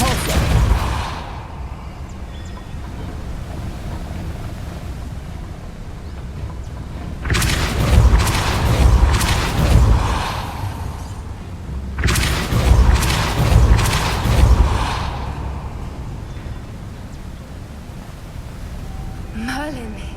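Depulso force spell cast in the Hogwarts Legacy video game, two deep booming blasts a few seconds apart over a steady game ambience, each swelling and then fading.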